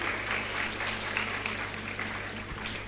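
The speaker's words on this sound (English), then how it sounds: "Let's have a round of applause for Leeza." Audience applause for a guest at the close of a talk segment, a fairly faint, steady clatter of clapping lasting a few seconds with no voices over it.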